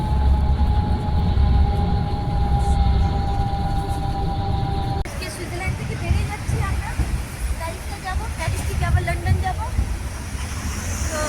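A train bound for Paris on a Switzerland-to-France route, a steady low rumble and rolling hum of the carriage with a shift in tone partway through, close and continuous, while people talk over it.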